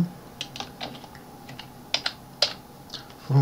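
Scattered, faint keystrokes on a computer keyboard while entering matrix values into Mathcad 14, with a few sharper clicks and one firmer key press at the end, with no voices.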